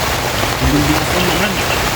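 Heavy rain pours steadily in a dense hiss, close and loud, with faint murmuring voices underneath.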